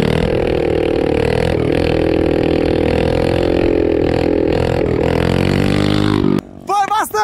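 A mini quad bike's small engine revs hard and sustained for a wheelie, loud and close with a wavering drone, then cuts off abruptly near the end as excited voices shout.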